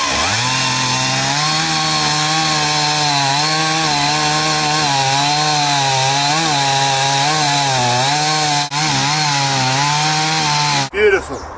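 Stihl 038 AV Super chainsaw cutting into wood, a loud steady buzzing drone with slight wavering pitch under load that holds for about eleven seconds before cutting off abruptly.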